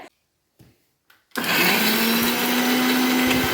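A kitchen mixer grinder whirs loudly and steadily as it grinds coconut, garlic and green chilli into a paste for avial, kicking in abruptly after a few faint clicks and holding a constant high-pitched motor drone.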